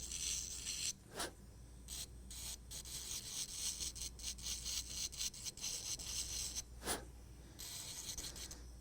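A dental burr grinds a green-state zirconia disk, giving a steady, close, high-pitched scraping hiss broken by a few brief louder bursts, with no talking.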